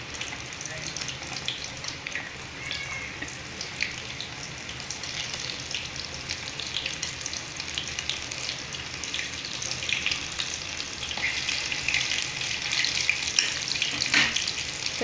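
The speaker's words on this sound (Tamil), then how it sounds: "இந்த மாதிரி அப்பப்போ திருப்பி விட்டுக்கலாம். எண்ணெய் சதறி மேலே விடாமல் பார்த்துக்கோங்க." Quail pieces fry in hot oil, crackling and hissing steadily at moderate volume with occasional turning, growing slightly louder toward the end.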